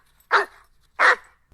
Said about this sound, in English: here is Mac the Wolfhound just barking for a few seconds.